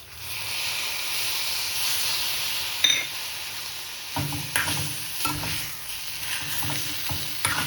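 Capsicum and gram flour sabzi stirred in a hot pan: a steady oily sizzle with a sharper scrape near three seconds, then repeated spatula scrapes and stirring knocks over the frying hiss, close and alone.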